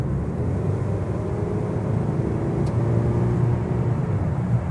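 2015 Mazda 6 accelerating on a test drive, a steady low engine drone with road noise, heard evenly from inside the cabin without talk.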